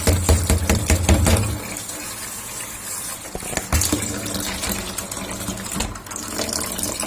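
Spinach leaves being swished and rinsed in a bowl of water, with loud sloshing and splashing in bursts, a heavier gush near the start and intermittent clatter as the greens are stirred through the water.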